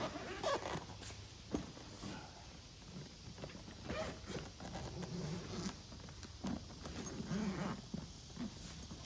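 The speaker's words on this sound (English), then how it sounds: "You undo this zipper, I believe. Yes, you can expand it" A zipper rasps open in short, quick pulls close by, with soft rustling and handling noise between the strokes.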